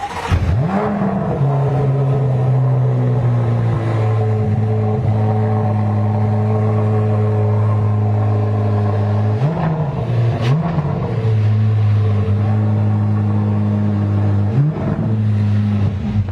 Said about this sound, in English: That is the sound of 670 horsepower.